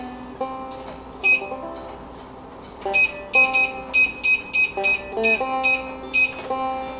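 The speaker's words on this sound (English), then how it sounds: "I usually set the timer of my biscuits" A kitchen timer is set for 20 minutes while biscuits bake in a 410-degree oven. Close, loud electronic beeps start as a few scattered chirps and then settle into a steady run of short, bright pulses with no talking.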